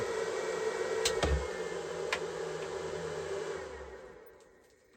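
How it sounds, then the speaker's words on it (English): Cooling fans of a LiTime 100A MPPT solar charge controller whirring steadily at close range, with a couple of sharp clicks, then fading and winding down toward silence at the end. "So the fans cut off pretty quick on the controller"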